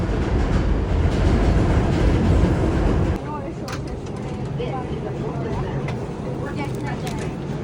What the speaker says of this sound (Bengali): ওই যে দেখেন ওই পাশে সিক্স ট্রেন দেখা যাচ্ছে যেটা লোকাল ট্রেন